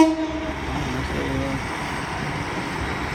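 Great Western Railway train sounding its two-tone horn near a level crossing at Exeter St David's, a loud opening blast fading into the rumble of the passing train.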